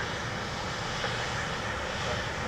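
Lufthansa airliner engine on landing approach at Dublin Airport, a steady broadband roar that holds level throughout with no talk over it.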